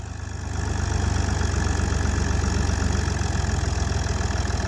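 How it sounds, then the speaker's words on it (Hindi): A tractor engine running in gear, a loud, close, steady low-pitched chugging that rises slightly after the first half second and holds an even rhythm without talk. "स्टार्टिंग अच्छी है ट्रैक्टर की, ज़बरदस्त है।"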